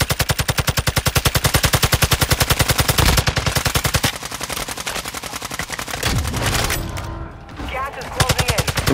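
Rapid automatic gunfire rattles in Call of Duty Warzone during a nighttime match, loud and close with steady bursts, a brief pause, then more shots and scattered game sounds.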